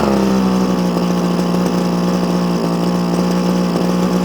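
A Komatsu Zenoah strimmer engine runs steadily at close range, a loud, constant buzzing drone with a fixed pitch and no talking over it.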